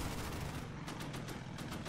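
Gunfire rattles in a World War II strategy game set on the Burma Road near Rangoon. Faint, rapid bursts of shots repeat in a quick rhythm over a dense background rumble, with no talk.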